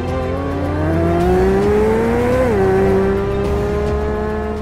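Chevrolet Corvette C8 Z06 with a naturally aspirated V8 accelerates hard and loud, its engine note climbing steadily, dropping sharply at a gear change, then pulling again, with no voices.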